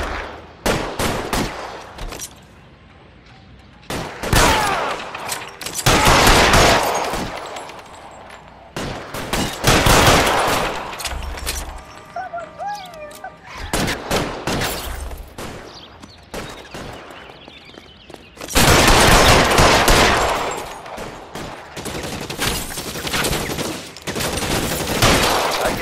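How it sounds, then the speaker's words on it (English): Gunfire shootout in the video game L.A. Noire, with repeated bursts of loud shots and automatic fire clustered in dense volleys, separated by brief quieter gaps across the scene. "Find some cover! Suppressing fire!"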